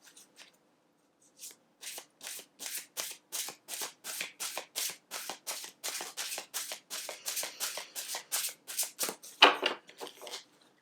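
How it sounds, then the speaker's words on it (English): Mayan oracle cards shuffled by hand in a quiet room, a long run of crisp, evenly spaced riffling bursts, close and clear, with no talking. "Now, let us pull a Mayan oracle card."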